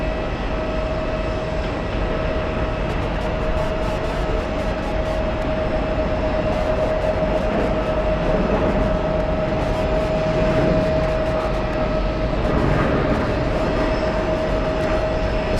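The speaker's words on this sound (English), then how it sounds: "Oh my goodness, it's taking its time to taxi," A Boeing 787 Dreamliner taxiing at JFK airport gives off a steady, distant jet engine rumble with a constant whine, continuous and unbroken throughout, with no voices present.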